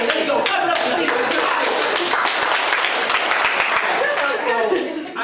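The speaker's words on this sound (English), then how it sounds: "Clap it up for seniors" A packed student audience at a university workshop claps for the seniors, dense sustained applause with scattered cheers and voices mixed in, loud and near, tapering off at the very end.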